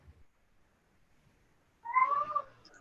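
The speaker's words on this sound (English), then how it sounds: "I'm sorry, I think people can hear this cat." A cat meows once up close during an online memorial gathering, a single drawn-out, fairly loud call breaking an otherwise quiet room.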